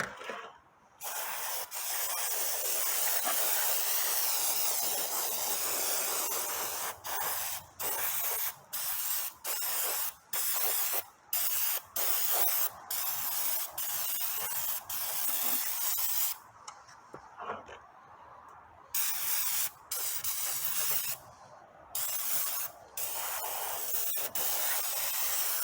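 Engine valve cover parts from a Toyota 2.4-liter 2AZ-FE get spray-rinsed in long, loud hissing blasts up close, broken by short stops and restarts, with no talking.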